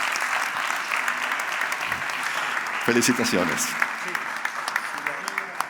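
Steady audience applause fills a conference hall throughout, with a voice briefly speaking over the clapping near the middle.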